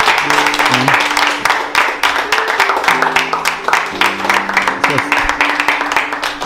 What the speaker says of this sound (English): We could give them a round of applause first.